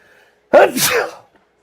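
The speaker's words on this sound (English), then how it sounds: "Got me so excited I'm sneezing up in here." One loud, close human sneeze bursts out suddenly after a moment of quiet, with a sharp onset and a brief trailing exhale.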